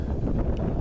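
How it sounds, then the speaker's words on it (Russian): Heavy wind buffets the microphone in a meadow by a village, a loud low rumbling roar with gusty fluctuations and no voices. "Ветер страшный."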